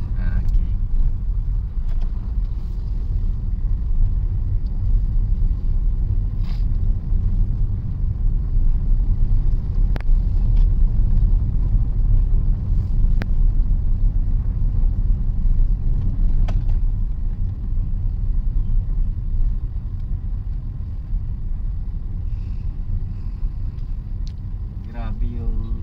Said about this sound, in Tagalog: Grabe yung tricycle ngayon dito eh.